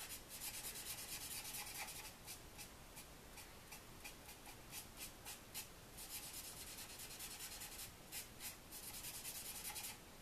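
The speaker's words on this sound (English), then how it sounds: "really kind of scrub those colors together" Alcohol markers scrubbed back and forth on paper to blend colors, a faint close rhythmic rubbing with quick repeated strokes coming in bursts, no talking.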